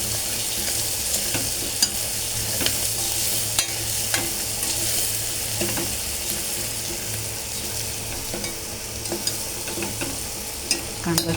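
Onion fries in a pan with turmeric and salt, giving a constant bright sizzle punctuated by regular ticks and scrapes of a spoon stirring, close and even, without speech.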